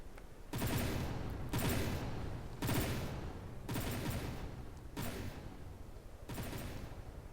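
Vehicles trading gunfire in a King of the Hill championship match of a combat video game, six loud bursts of rapid shooting repeating at a steady rhythm about a second apart, with no talk.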